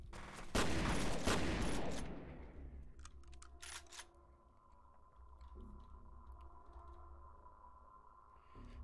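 Shotgun blasts in the video game F.E.A.R.: a loud, dense burst of booming shots in the first two seconds, then a few sharper isolated cracks fading into a low humming ambience.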